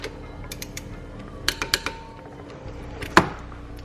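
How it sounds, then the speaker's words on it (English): A wrench tightens a pivot bolt to 38 foot-pounds on a supercharged Toyota 4Runner, giving a few sharp ratcheting clicks and metallic creaks, then one louder snap near the end. "Next, I'm gonna hit the pivot bolt, and it's 38 foot-pounds."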